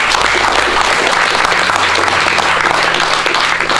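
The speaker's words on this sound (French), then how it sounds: "on vous applaudit avec Pierre." Sustained applause from a French audience at a judo event, loud and dense clapping from many hands, steady throughout with no pause and no talking over it.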